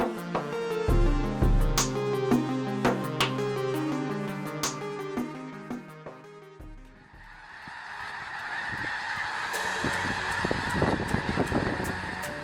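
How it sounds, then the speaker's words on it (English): Massive flock of snow geese honking during their annual migration at Squaw Creek, Missouri, a dense, loud chorus of overlapping calls that swells in after an opening stretch of music. "where 1 million snow geese gather for their annual migration"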